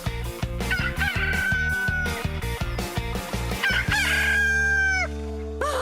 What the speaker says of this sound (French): ce coq vient de chanter pour la toute dernière fois.